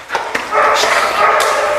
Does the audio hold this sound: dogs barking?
yes